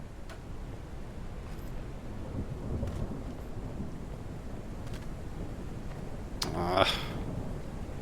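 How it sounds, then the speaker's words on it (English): Rain and thunder in the video game Out of Ore, set in an arctic winter: a steady wash of rainfall with low rumbling throughout, brief crackles, and a sharper, louder thunder burst near the end. "Rain is starting to come down on us."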